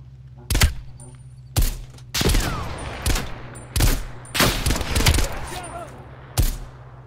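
Rapid bursts of gunfire in Call of Duty: Black Ops Cold War, six loud volleys of automatic fire with short gaps between them, close and punchy over a low steady hum.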